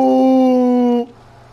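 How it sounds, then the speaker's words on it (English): A Minecraft death noise rings out once as a loud, sustained tonal groan for about a second before cutting off abruptly, followed by faint low hum. "I swear it made a Minecraft death noise."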